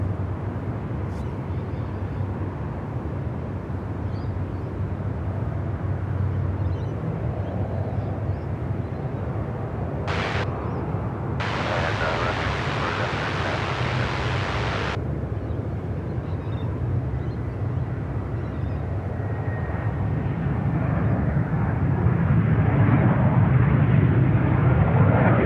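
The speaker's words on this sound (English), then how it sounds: "That beautiful sound coming out of the engines" A Boeing 717 arrives at Sydney Airport, its jet engines a broad, steady roar heard from outside that grows louder toward the end, with short bursts of hiss and noise interrupting midway.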